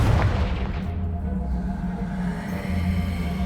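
In Hogwarts Legacy, a Confringo blasting spell sets off an explosion against a piled blockage: a booming blast with a rumbling low tail that fades out over a few seconds.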